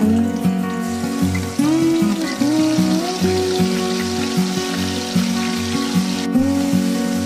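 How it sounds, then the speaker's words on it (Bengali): Onion paste crackles in the hot oil left from frying rohu fish for a masala curry, giving a loud, busy close sizzle with popping bursts throughout. "আর আমি ওই মাছ সাঁতলানো তেলের মধ্যে দিয়ে দিচ্ছি পেঁয়াজ বাটা।"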